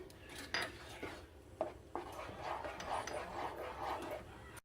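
A spoon scrapes and clinks inside a pot as mushroom soup is stirred after salt is added, with a few sharp metallic taps and a soft, quiet, continuous rubbing sound.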